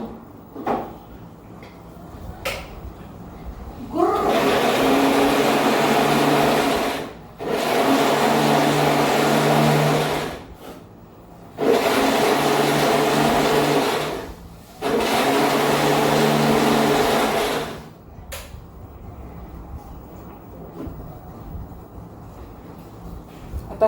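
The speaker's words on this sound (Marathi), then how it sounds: "आता हा मिक्सरमधनं फिरवून घ्यायचा" Mixer grinder blending extracted mango pulp runs in four loud whirring bursts of about three seconds each, separated by short pauses, with quiet clatter before and after.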